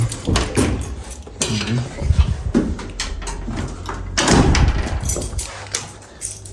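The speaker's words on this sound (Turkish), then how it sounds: "Şöyle kapıyı açalım." A door being opened while entering a house, with a run of clattering knocks and scrapes close by, followed by a louder burst of handling noise.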